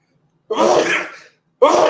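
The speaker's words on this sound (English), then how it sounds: "Pardon about me sneezing." A loud, close sneeze bursts out after a short silence, followed by the start of another explosive sound at the end.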